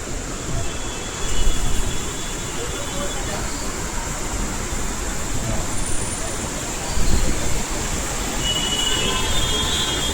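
A metro train rumbles steadily with rolling wheel noise and a faint high whine, loud and continuous, with a couple of brief louder surges, during a torrential downpour.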